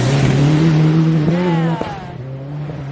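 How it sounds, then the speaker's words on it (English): A Subaru rally car sweeps past at a turn on a rally stage, its engine note rising and falling as it passes close by, loud and continuous, with crowd voices faintly beneath. "A very nice Subaru there."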